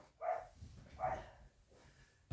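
A dog barks twice outdoors at some distance, two short separated woofs, fairly faint, followed by a brief thump near the end.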